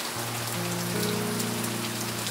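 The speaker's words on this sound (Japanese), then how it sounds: "それにしてもすごい雨だな。" Heavy rain pours down in a dense, steady hiss that fills the whole moment, loud and continuous, while low sustained musical tones swell underneath.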